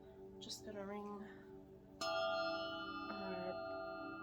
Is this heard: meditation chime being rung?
yes